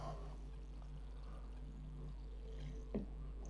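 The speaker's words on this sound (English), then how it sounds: "grab yourself some water and then water the plant in" Water poured from a container onto a freshly potted plant in a spring garden, a steady soft pour over a low background hum, with a brief splash near the end.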